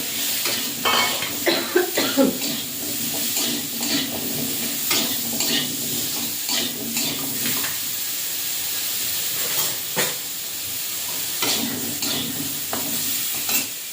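Small pona fish with salt and turmeric is stirred in a hot frying pan: a continuous close sizzle and hiss with repeated scraping and clinking stirs, no voices.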